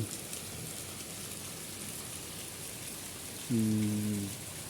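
Steady, soft rain falling outdoors, a faint continuous patter with no voices, joined near the end by a brief low tonal hum.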